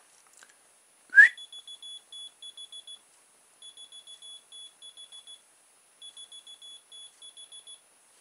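A short whistle blast is answered by a toy rat's electronic chirping: three bursts of rapid, evenly spaced high beeps separated by short pauses, faint and close in an otherwise silent room.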